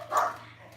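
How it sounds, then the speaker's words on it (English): A single short, faint dog bark rings out at a distance over a low steady hum, then fades away. "That'll be the dogs."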